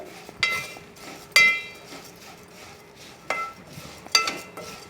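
A metal spoon scrapes and clinks against a pan as flattened rice (poha) is stirred and fried for a crunchy dal moodi snack, with four or five sharp separate clangs and soft stirring between them.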